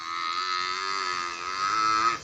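Cows in a muddy cattle shed give one long, loud moo that is close and sustained. It lasts about two seconds and rises slightly in pitch near the end, with no talking.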